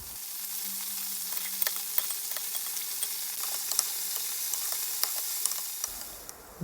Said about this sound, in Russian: выложим туда наши чесночные стрелки. Жарить будем минут 5.